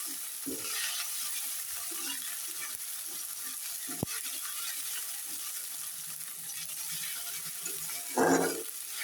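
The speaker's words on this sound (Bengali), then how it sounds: "মশলাটা আমার ভাজি করা হয়ে গেছে, কাঁচা গন্ধটা চলে গেছে।" Onion paste, ginger paste and spices fry in a pan with a faint, steady sizzling hiss, broken by a couple of soft stirring scrapes and a brief louder rustle near the end.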